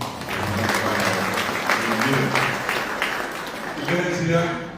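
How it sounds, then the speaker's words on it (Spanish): An audience at a Guaraní language and culture institute's tribute ceremony applauds journalist Ricardo de Vente with a moderate, continuous patter of clapping, while voices mingle in the background. "vamos a darle también un aplauso"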